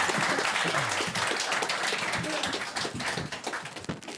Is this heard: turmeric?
no